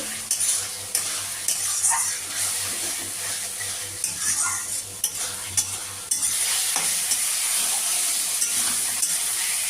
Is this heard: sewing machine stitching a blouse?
no